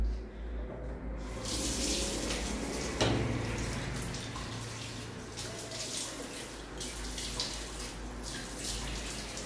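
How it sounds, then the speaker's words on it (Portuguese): Tap water runs into a bathroom sink while someone washes their face, a steady close rushing stream with brief splashes and shifts as hands move through it. "Então eu vou lavar meu rosto aqui"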